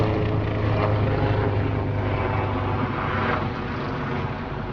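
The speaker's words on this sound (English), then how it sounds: "I'll just wait for that helicopter to pass." A helicopter drones steadily overhead, a loud continuous engine and rotor roar that fades slightly toward the end, with no one speaking.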